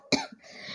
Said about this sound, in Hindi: मुझे खांसी हो रही है